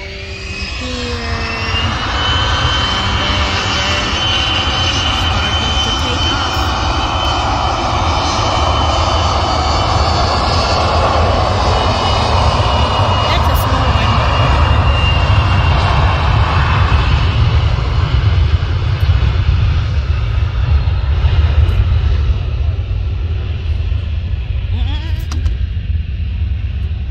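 An airplane takes off from an airport on Memorial Day weekend 2022. Its engine makes a steady, loud roar that holds for nearly half a minute, with a broad rumble underneath throughout.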